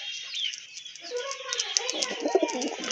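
A pure white male Chuina pigeon coos in a short run of low throaty calls close by, joined by fainter background chatter.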